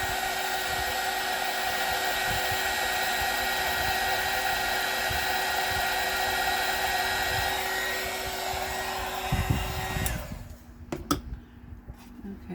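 A hair dryer blows steadily on a watercolor painting, a continuous close whir that lasts about ten seconds before switching off, followed by a few soft clicks and handling knocks.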